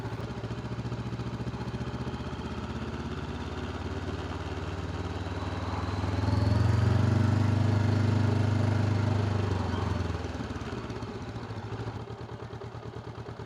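A car engine idles at very low revs on the verge of stalling, a steady close low rumble that swells and roughens for a few seconds mid-way before settling back.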